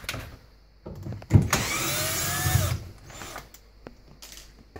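A power drill backs out the mounting screws on a dishwasher in one whirring burst of about a second and a half, close and loud, preceded and followed by soft handling clunks.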